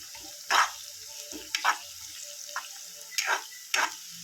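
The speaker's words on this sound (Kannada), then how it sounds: "ಈರುಳ್ಳಿ ಇದು ನೋಡಿ ಹೆಂಗೆ ಕೊದ್ದೀತಿದೆ, ಕೊತ ಅಂತ ಕೊದ್ದೀತಿದೆ." Onions frying in a pan for a simple chicken dry dish, with a low sizzle punctuated by several sharp crackling bursts and spatters spaced irregularly, close and moderately loud, no talking.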